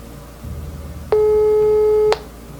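A single long electronic ringback tone on a phone line, steady and clear for about a second, over faint background noise.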